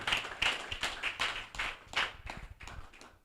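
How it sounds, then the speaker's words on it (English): An audience at a training event claps steadily, a dense wash of many hands with rhythmic surges, fairly close and moderately loud, with no voices over it. "Keep clapping, keep clapping."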